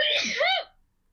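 A single voiced sneeze, close and loud, with a rising and falling tonal burst lasting about half a second before dropping into silence.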